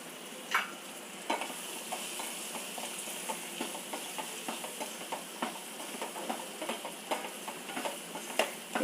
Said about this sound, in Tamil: இது அப்படியே சிம்லேயே வச்சு அப்படியே ஃப்ரை ஆகட்டும்